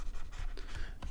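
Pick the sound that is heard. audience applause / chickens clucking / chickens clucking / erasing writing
erasing writing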